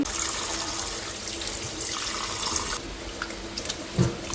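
A kitchen tap runs steadily while chicken meat, large leg pieces, is washed under it. The close, even water hiss dips slightly partway through, and a small knock comes near the end.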